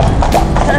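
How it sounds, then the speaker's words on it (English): Horses pulling a wedding carriage clip-clop along, their hooves close and loud in a quick run of strikes, with people talking over them. "Those beautiful horses, what are they called?"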